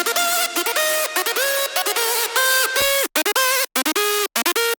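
Hardstyle synth lead layered from a main voice and two side voices panned left and right, a bright gliding melodic line with pitch slides and rapid choppy notes, played alone.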